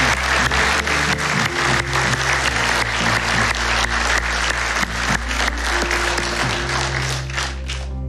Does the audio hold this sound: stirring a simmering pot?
no